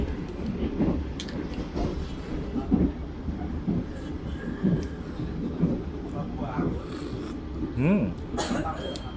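Steady low rumble and rattling of the moving KA Gumarang passenger train in Indonesia, heard from inside a new-generation economy carriage, with murmured voices talking over it.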